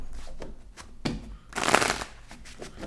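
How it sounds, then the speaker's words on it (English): Tarot cards being shuffled by hand in short bursts of riffling and sliding, close and crisp, with a longer flurry in the middle and quiet pauses between. "I want 3 more shuffles."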